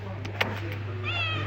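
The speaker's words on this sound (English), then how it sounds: "I don't pet kitties when I'm traveling, but you are so cute." A cat meowing close by in a rainy, windy spot in rural Vietnam, a short rising cry near the end after a brief soft sound, over steady background hum.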